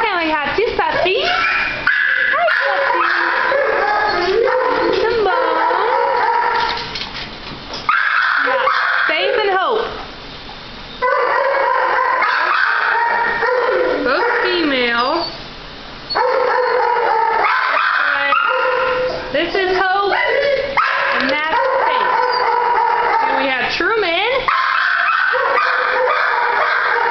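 Dogs, including a black Lab cross female, bark, yip and whimper almost continuously at close range in the North Platte Animal Shelter, loud and overlapping, while people talk over the commotion.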